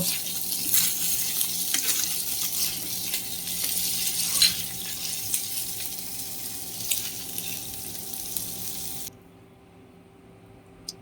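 Loitta (Bombay duck) fish frying in oil in a pan, a steady bright sizzling hiss with faint scrapes and clinks, cutting off abruptly near the end to a quiet room.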